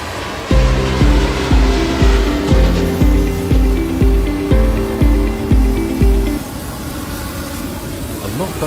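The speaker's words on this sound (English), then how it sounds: "An Air China Boeing 777-300ER experiences an engine compressor stall shortly after departure" An Air China Boeing 777-300ER engine suffers a compressor stall shortly after departure, heard as a loud run of rapid, evenly spaced banging pulses over a roaring engine that stop abruptly, leaving the steady roar.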